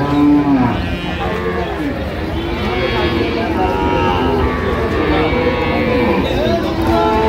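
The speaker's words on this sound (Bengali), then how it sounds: "একটি গাভী বাচ্চা দেখছেন বেলাল ভাই।" At a village cattle market, a cow with her calf is surrounded by loud lowing and the noise of livestock, while people talk nearby throughout a busy, crowded scene.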